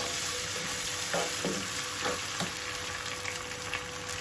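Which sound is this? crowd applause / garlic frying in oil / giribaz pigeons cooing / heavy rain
garlic frying in oil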